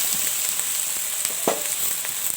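Beef stir-fried with fennel leaves in a hot pan for a Thai stir-fry, a continuous hissing sizzle with light scraping strokes and one louder stir midway, close and without talk.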